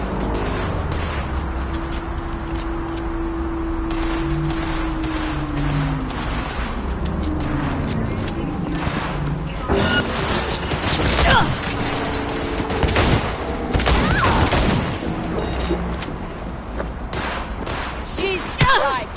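Rapid bursts of gunfire and heavy shots ring out in the video game Cyberpunk 2077 on PS4, loud and repeated over a droning background, with voices shouting between volleys.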